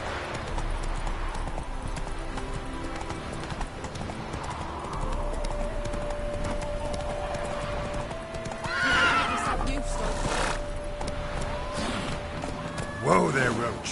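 A horse in a video game gallops with rapid, steady hoofbeats and lets out a couple of loud whinnies toward the end, while a voice talks over the action.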